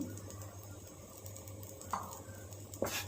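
A spoon stirring garam masala into a simmering curry in a pan, with faint scraping and two brief sharper scrapes against the metal over a low steady hum, quiet and close.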